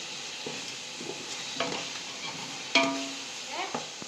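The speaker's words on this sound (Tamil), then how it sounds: "இஞ்சி ஒரு 5 நிமிஷமாக வதங்குது" Ginger sautéing in a pan for a chicken biryani, a quiet sizzle broken by several soft scrapes and stirring clicks, with one sharper utensil knock near the end.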